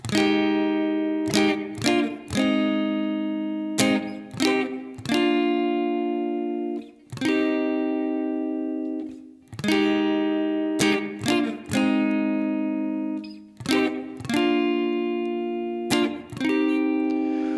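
An acoustic guitar strums a slow sequence of chords, each ringing out before the next strike, with quick double strums in places and no voices.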